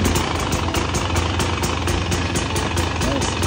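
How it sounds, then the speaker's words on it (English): A 2024 TE 300 dirt bike engine running at idle, a loud, close, steady rattling putter with a fast even pulse throughout. "I'm gonna start the bike and see."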